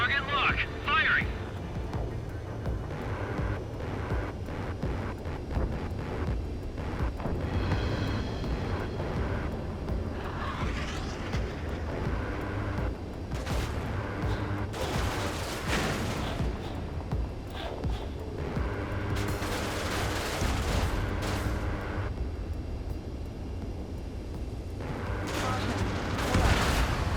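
Ace Combat 7 air combat with aircraft weapons firing and repeated explosions, a dense, continuous roar of jet engines and gunfire with sharp blasts scattered throughout, under radio chatter.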